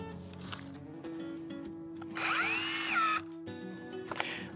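A HERMAN AXSP-1803 cordless drill with an 8 Ah battery drives a screw. A steady motor hum is heard, then about a second of loud, straining, whining drive near the middle, dropping back to idle.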